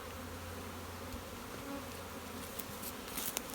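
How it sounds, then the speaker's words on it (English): Honey bees buzzing around an open hive during a split, a dense close drone of many bees with faint clicks and knocks of frames, no voices. "With a few bees, but we know there's no worry"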